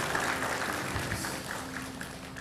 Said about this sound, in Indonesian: Udah tepuk tangan, jangan lama-lama ya